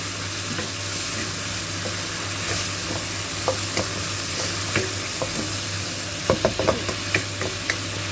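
Homemade red curry paste stir-fried for Thai phat phet, a steady sizzle in the pan with scattered utensil scrapes and clicks growing busier toward the end; no talking.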